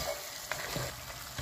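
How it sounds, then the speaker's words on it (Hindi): Coconut roasting in a pan for a Hyderabadi tomato shorba, a faint continuous sizzle with a few soft scrapes of a spoon, close but quiet, no voices. "ये रोस्टेड कोकोनट अच्छे से भुन गया है।"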